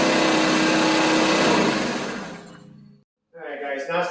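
A 50cc Chinese scooter engine fitted with an upgraded clutch revs hard with a loud, buzzing, high-pitched drone for almost three seconds, then winds down and cuts out briefly before a softer, rougher idle picks back up.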